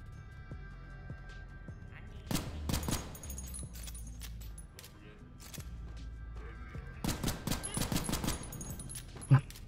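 Gunfire from shooting at targets in the video game SULFUR comes in two dense bursts of rapid shots. Low game ambience hums between the bursts.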